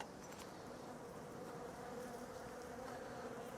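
Honey bees in an open hive give off a steady, dense buzzing hum, close and continuous throughout with no talk.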